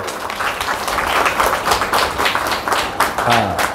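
An audience claps steadily for the women who had stood waiting with flowers and plates for a Buddhist monk. The dense, even applause fills the whole stretch, with a brief voice rising near the end.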